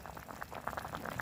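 Water at a steady rolling boil in a pot with fish, a dense continuous bubbling close by, quiet and alone without talk.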